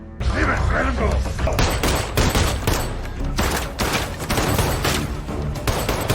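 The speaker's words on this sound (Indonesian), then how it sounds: "Naasnya Raymond tewas ditembak dan John kabur membawa 3 juta dolar tersebut" Heavy gunfire erupts in a dramatic film scene, a dense barrage of loud overlapping shots and booms layered with music and voices throughout.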